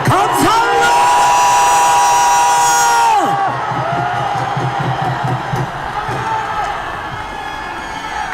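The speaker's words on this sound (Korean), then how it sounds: "함성 한번 질러주십시오" A large outdoor crowd at a political rally by Dongdaegu Station roars and shouts together, a loud sustained cheer with whoops and yells that slowly settles while the noise of the throng continues.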